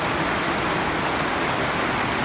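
Sudden heavy rain on an overcast day pours down as a dense, steady roar of broadband hiss, loud and unbroken throughout.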